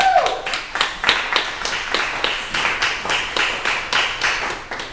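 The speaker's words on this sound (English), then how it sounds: "Don't clap till it's over." An audience at a live performance at the Philadelphia Art Alliance claps in a steady, rhythmic beat of about three claps per second, fairly loud and sustained throughout.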